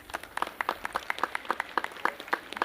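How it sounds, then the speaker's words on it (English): Crowd applause at a National Heroes Day awards ceremony at Heroes Square: a modest group claps in distinct, fairly rhythmic hand claps, somewhat faint and distant, continuing steadily. "Please give them all a round of applause."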